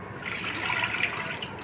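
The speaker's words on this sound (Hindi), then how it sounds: "2 जग पानी के आपने इसमें डालने, ताकि अच्छी से यखनी बन जाए।" A large jug of water splashes steadily into a cooking pot to make stock for Egyptian rice, a close, continuous rushing pour lasting a couple of seconds.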